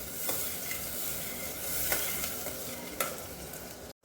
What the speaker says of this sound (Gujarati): ગ્રેવીને 2 થી 3 મિનિટ માટે એમને સાતળવા દઈશું